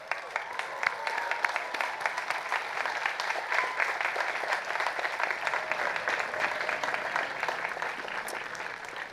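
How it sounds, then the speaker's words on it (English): Graduates applaud their faculty at a university commencement, a large crowd clapping in a broad, sustained patter heard from some distance, fairly soft but unbroken throughout. "please rise and acknowledge with applause your appreciation for your faculty as teachers"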